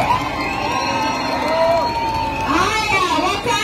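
Crowd at a political rally in Kasarani cheers and shouts loudly, with whoops, children's voices and overlapping chatter rising and falling throughout.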